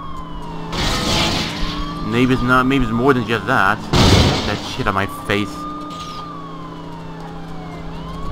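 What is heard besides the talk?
police siren on a car in the video game True Crime NYC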